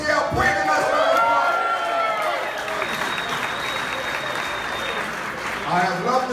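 Applause for baseball player Yasiel Puig at a charity poker tournament, a loud burst of clapping from a crowd that swells, holds and tapers over several seconds with a few whoops and murmuring voices mixed in.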